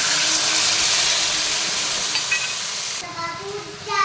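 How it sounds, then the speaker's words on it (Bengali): Green chilies frying in a pan give off a loud, steady hissing sizzle that drops away sharply near the end, with faint voices or other sounds briefly audible. "লঙ্কাটাকে ভালো করে ভেজে নেব।"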